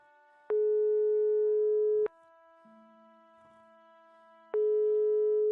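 Telephone busy signal in the Broken Sword video game: steady pulsed tones, two long beeps separated by a gap with a faint low hum, clear and alone with no talk.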